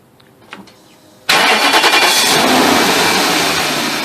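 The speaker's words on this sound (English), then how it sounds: "So let me go and start the car." A BMW 740 under repair cranks and fires after a few faint clicks, catching suddenly and settling into a loud, steady idle right up close, with no talk over it.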